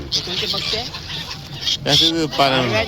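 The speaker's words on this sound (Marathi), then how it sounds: "नाही राजहंस" A swan calls with short nasal honks, fairly close, while people talk over and around it.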